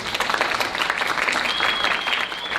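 A crowd applauds loudly and continuously, dense overlapping claps filling the whole stretch without pause.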